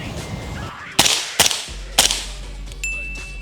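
Three suppressed 5.56 rifle shots through a WhisperStrike titanium suppressor during a Mozambique drill, sharp close cracks in quick succession followed by a faint timer beep.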